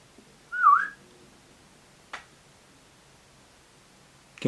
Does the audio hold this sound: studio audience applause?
no